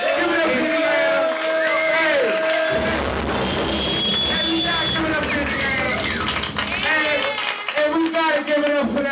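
Audience at a live stand-up comedy show in Indiana clapping and cheering, loud and close, with whoops and shouting under a voice talking over the crowd throughout.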